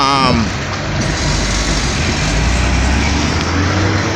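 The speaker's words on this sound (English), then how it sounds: "we have to watch a truck here too." A truck passes on a road during roadworks in Jamaica, a loud, continuous low engine roar and tire noise close by throughout, with no talk over it.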